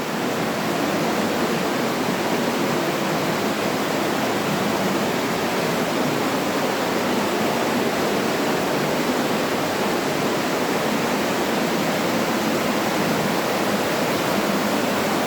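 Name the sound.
roaring water at the spring of the Agly river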